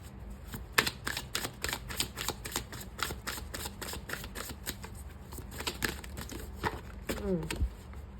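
Oracle cards are shuffled by hand close up, a quick irregular run of crisp snapping flicks continuing for several seconds with a soft voice briefly heard near the end.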